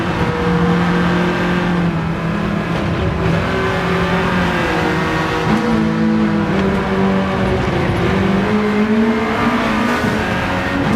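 A turbocharged Honda Civic with a B18C engine races a hot lap of the Nurburgring in Gran Turismo 7, its engine droning loud and steady as it revs and shifts through the lap.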